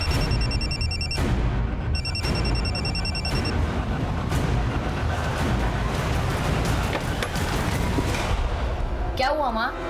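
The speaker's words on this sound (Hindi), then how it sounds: "मुझे यहीं कहीं से मोबाइल की आवाज आई।" A mobile phone rings indoors in a repeating electronic tone, sounding in two bursts and then cutting off, over steady background noise; people talk nearby.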